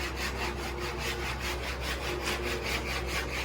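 A hand saw cuts through wooden floor boards in quick, steady back-and-forth strokes, each rasping pass close and loud, repeating rhythmically with no talk.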